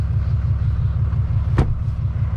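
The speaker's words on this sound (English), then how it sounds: "I'm gonna shut this truck off so that we can hear each other." A truck engine idles close by with a steady low rumble and regular pulsing, broken by one brief sharp knock.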